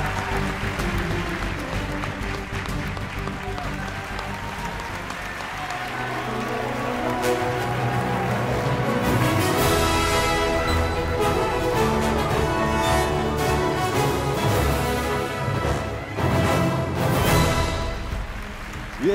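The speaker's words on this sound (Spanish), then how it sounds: "disfruta estos aplausos que reconocen tu trabajo" Sustained applause for the winning designer at the grand final of a fashion design contest, a steady wash of many hands clapping that swells louder midway, mixed with background music.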